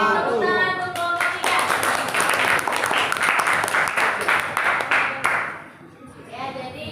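Classroom clapping for a student group during a school lesson, brisk and steady for about four seconds after a brief voice, then tapering off as a voice resumes.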